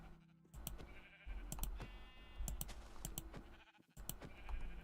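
Sheep bleating in Minecraft, several short bleats from nearby animals in quick irregular succession with clicking keyboard taps underneath.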